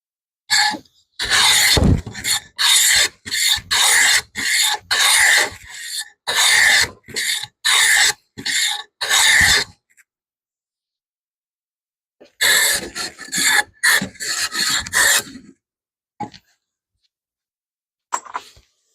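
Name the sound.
block plane chamfering a wooden board edge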